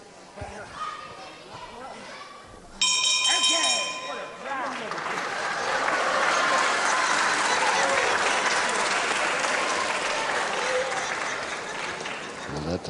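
An indoor wrestling crowd at Catford applauds a bout with sustained, loud clapping and cheering, a bell rings for a moment early on, and a voice can be heard near the start.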